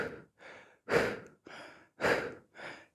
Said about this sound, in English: Sharp little exhales.